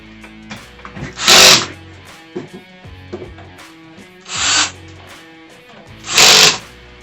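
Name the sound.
power drill tightening cam locks on nightstand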